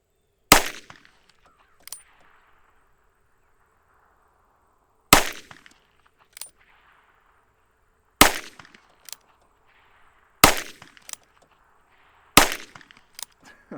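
Pistol shots fired at long range, around 50 yards, at an outdoor range: five sharp, loud cracks spaced a few seconds apart, each followed by a brief echo and a fainter secondary report.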